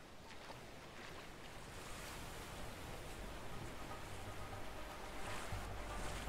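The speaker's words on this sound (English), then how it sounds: "Waterfall, waterfall! That's more like a water slope." Rushing river water tumbling down a sloped waterfall in the video game A Way Out, a steady broadband roar of churning water that swells slightly toward the end, with no talk over it.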